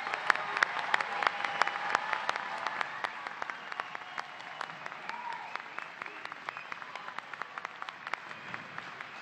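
Audience applause at a spring commencement ceremony for a technical institute, a steady wash of many hands clapping with sharp individual claps standing out, sustained and fairly distant throughout.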